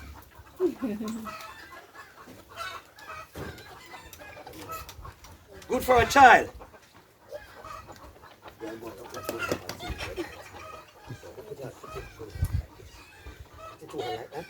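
Chickens cluck on a Jamaican animal farm in Manchester, scattered bursts of clucking and a louder squawk mixed under frequent nearby talk between people.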